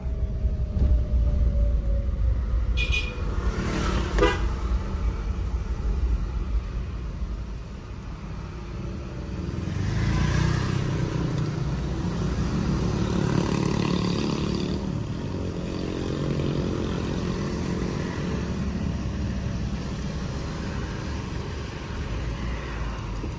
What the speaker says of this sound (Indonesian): Jadi kita gas tipis aja gitu suara krek gitu.